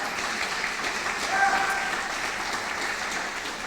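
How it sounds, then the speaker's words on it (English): A crowd at a press club annual dinner applauds steadily, dense clapping holding at an even level for the whole few seconds. "let's have a round of applause for Stamba."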